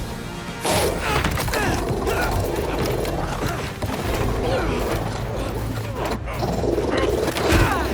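A robotic dog growls and barks in the video game Spider-Man 2, harsh snarls mixed with crashing impacts and combat noise, loud and continuous throughout.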